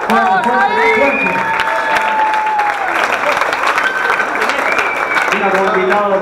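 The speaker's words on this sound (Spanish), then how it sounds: "Quiero que le den un fuerte aplauso, no solamente a mí, sino a ver, a Jair, el protagonista." A concert crowd at Asbury, Flores applauds and cheers loudly and continuously, with whistles and shouts over dense clapping. Some voices are mixed in.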